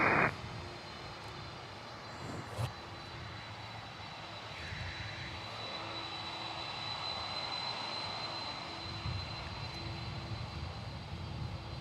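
Prime Air Boeing 767 cargo jet lining up at Miami Airport, a distant steady engine roar and whine across the airfield, faint and sustained, with a brief thump near the start.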